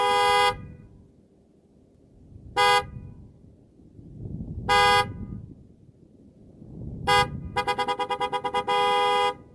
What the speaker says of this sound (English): I just finished upgrading the horn to my 2017 Honda Accord Sport.